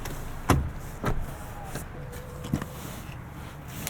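Rear seat of a 2022 Hyundai Tucson XRT being folded back up, giving a few sharp thumps and latch clicks inside the cabin, with quieter rustling between them.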